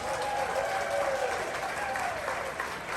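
Sustained audience applause at Coasterstock 2022 at Kings Island, welcoming a guest called Chef; dense clapping fills the whole stretch at a steady level, with a voice faintly audible beneath.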